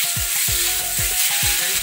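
Goat meat sizzles in a greased kadhai, with a steady broadband frying hiss and a few soft stirring scrapes close by.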